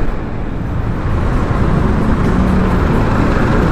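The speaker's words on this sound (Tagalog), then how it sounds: "Traffic na." Steady road traffic rumble on a ride along Osmeña Highway toward Makati, a continuous broadband roar of engines and tyres that stays loud and even throughout, with no talk.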